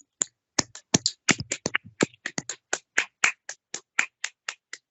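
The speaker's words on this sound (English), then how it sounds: "Please clap hands for yourself" A couple of dozen sharp, separate hand claps, quick and uneven at first and then settling into a slower steady beat, close by and alone with no talk over them.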